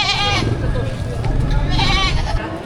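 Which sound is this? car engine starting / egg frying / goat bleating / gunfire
goat bleating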